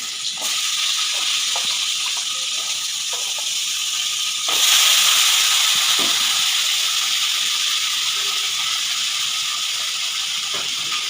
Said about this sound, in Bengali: আমি আলুগুলো ছেড়ে দিলাম, এবার এগুলোকে ভেজে নেব একটু হলুদ দিয়ে